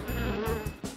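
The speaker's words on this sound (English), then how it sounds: "A bee makes a buzz sound." A bee buzzes close by in a single continuous drone lasting about a second, with no other sound around it.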